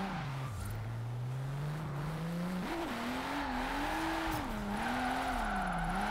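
Race car in a driving video game played on a 900-degree steering wheel, the engine droning steadily while the tires squeal through a long drift, pitch wobbling as the car slides, with no talking.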